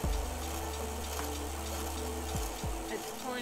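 A bike in Lumino City pumps water from a river, making a steady gushing, churning water sound with a low pumping hum. Two brief bubbling dips break the flow near the end.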